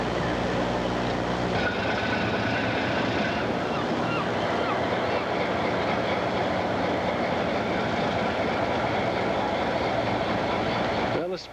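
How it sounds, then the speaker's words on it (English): A train is pushed into a station by its engine, giving a continuous loud rumble and rolling hiss of railcars that holds steady throughout before cutting off at the end. "Going to run the engine around and they'll push the train into the station."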